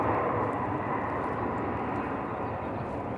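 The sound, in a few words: airplanes arriving and departing at Raleigh Durham airport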